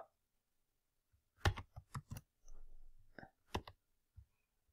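Computer keyboard keys are pressed for a Control-C copy shortcut while coding, giving a few sparse, close, quiet clicks and taps with gaps of silence between them.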